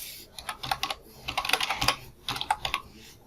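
Java code being typed on a computer keyboard, heard as close bursts of rapid key clicks in uneven runs with brief pauses between them.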